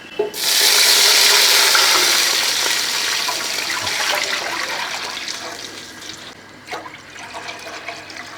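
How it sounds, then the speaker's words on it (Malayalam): Water gushes into a pot of rice for prawn biryani in a strong, splashing pour that tapers off into softer sizzling and bubbling as it settles. "ഒന്നര കപ്പ് വെള്ളം കൂടെ ഒഴിക്കണം"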